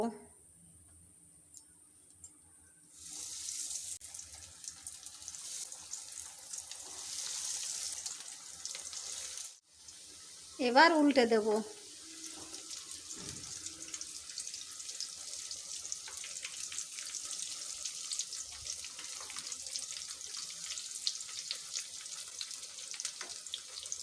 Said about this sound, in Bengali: এভাবে উল্টে পাল্টে লাল লাল করে ভেজে নেব